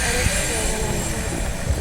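Turbine jet RC scale helicopter fitted with scale electrics, its engine giving a steady, loud whine and rumble that holds evenly throughout with no breaks.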